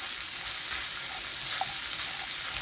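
Goulash sauce with seasonings cooks in a pan, giving a dense, even sizzling hiss that holds steady at close range without pause.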